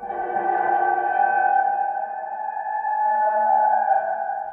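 A sustained, eerie metallic drone with ringing tonal layers, processed from a car key scraping a heating-oil tank, holding steady for several seconds without any voices.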